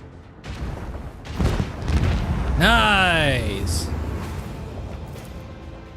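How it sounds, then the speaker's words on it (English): Starship macro cannons fire during a space battle in the video game Rogue Trader, heard as a heavy booming salvo with a sweeping whine that rises midway. Voices talk over the blasts. "Macro cannons. Open fire."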